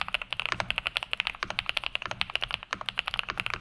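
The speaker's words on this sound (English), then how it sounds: "how could you possibly get a more creamy keyboard for cheap" Rapid typing on an Aula F75 mechanical keyboard, crisp clacky keystrokes in a quick irregular rhythm, close up with no voices.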